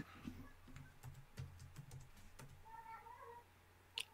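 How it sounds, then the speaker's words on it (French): A cat meows a few times close by, mixed with light keyboard typing clicks and a faint murmur in the background. "Ah, oui, si vous entendez, c'est un chat."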